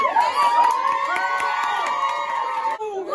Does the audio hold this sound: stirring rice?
no